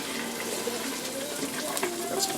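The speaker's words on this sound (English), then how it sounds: "And I'm going to pour this back in." Liquid from a curry potato leek soup poured back into a cooking pot, a steady close splashing pour that runs for a couple of seconds without speech.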